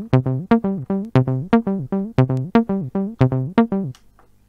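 A Roland TB-03 bass line runs a 303 pattern with swing or shuffle turned on, so the steady stream of resonant, squelchy acid notes takes on an uneven, loping groove before stopping abruptly.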